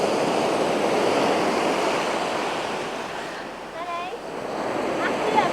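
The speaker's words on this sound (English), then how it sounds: "I see a big wave coming" Ocean surf on a Scottish beach rolls and washes continuously in a windy outdoor setting, a big wave surging up among the breaking waves, with faint voices and a bird call nearby.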